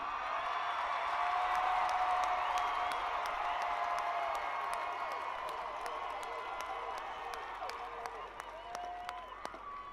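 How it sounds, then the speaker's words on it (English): University graduates at a May 2022 Fayetteville State commencement cheer and applaud, a large crowd of steady clapping with whoops that fades slightly toward the end, with a voice speaking briefly amid the noise. "Cheer yourself on and cheer your colleagues on."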